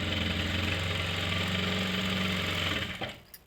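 A sewing machine stitches a salwar with a steady, fast mechanical whir, running continuously at close range before stopping abruptly near the end.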